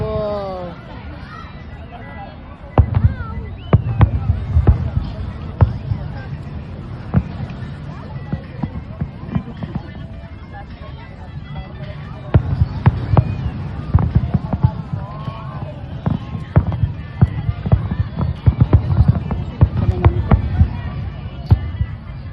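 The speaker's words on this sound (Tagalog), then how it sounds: "What do you think the fireworks are? Booming." Fireworks over the Burj Al Arab in Dubai at a 2025 celebration, with repeated sharp booms and crackles through a long stretch, some near and loud, under constant crowd chatter and nearby voices.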